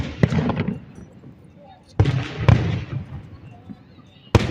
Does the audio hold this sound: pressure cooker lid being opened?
no